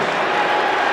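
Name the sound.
basketball crowd cheering and applauding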